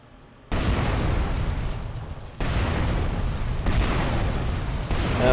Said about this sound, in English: they're still getting up after all those explosions